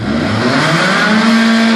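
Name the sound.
car engine revving hard under acceleration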